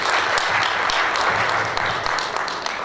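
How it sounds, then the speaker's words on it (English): Steady round of audience applause for presenters at a faculty of education international conference session, dense and even clapping throughout without a break. "let's give them a very good round of applause"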